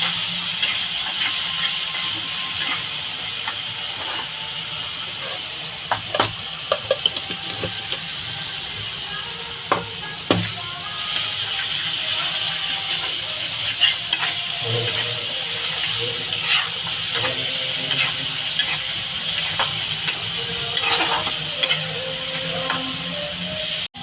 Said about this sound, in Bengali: আর এদিকে দিয়ে দেবো লঙ্কা পরিমাণ মশলাটা ভালো করে কষাবো